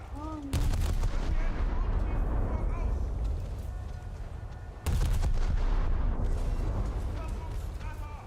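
Heavy cannon or gunfire in the War Thunder tank game: two loud booming blasts about four seconds apart, each followed by a long rumbling decay, with a voice talking over the battle.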